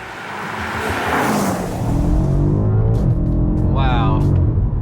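A 2018 BMW M5 accelerating hard out of corners, its engine note rising and surging loudly from inside the cabin under steady talk, with a brief higher whine near the end.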